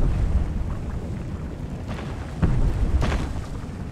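Volcanic eruption explosions in the pirate video game Sea of Thieves, heavy low booms and rumbling blasts near the ship, several hits landing in quick succession over a steady roar of wind and sea.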